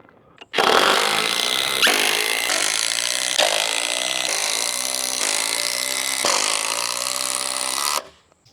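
Power tool driving big structural screws into deck boards, one loud continuous close whine lasting about seven seconds with slight pitch shifts as it bites.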